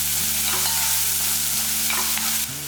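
Chopped large onion frying for Tamil more kulambu, a loud close sizzle with a few stirring scrapes over a short stretch, no talking.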